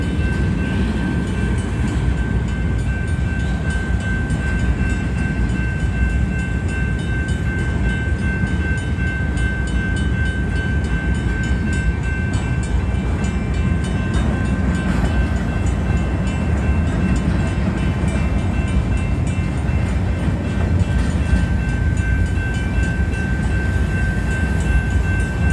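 Manifest freight train led by Union Pacific locomotive 8860, seven locomotives in all, rolling slowly past at Baseline Road; a steady, dense rumble of engines and railcars with a faint high tone holds throughout, with no pauses.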